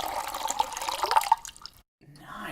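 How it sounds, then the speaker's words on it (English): A drink poured into a glass, a steady splashing trickle lasting over a second that stops abruptly, followed by quiet room sound. "That was pretty good pour."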